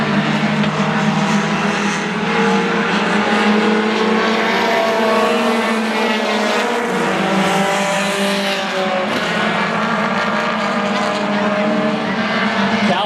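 Race cars lapping a short racetrack, with engines roaring loudly and continuously in a dense, sustained drone over the whole stretch. A commentator talks over the engine noise.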